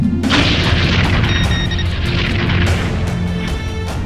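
Starship disruptor weapons fire in a Star Trek fan production: a loud, sustained booming barrage with rumbling low end, a sharp onset and layered electronic whines and pulses over the blast.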